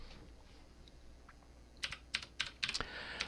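Keystrokes on a computer keyboard while entering a disk partition command, quiet at first, then a quick burst of sharp clicks and a final key press, close and alone.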